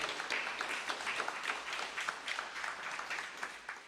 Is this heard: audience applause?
yes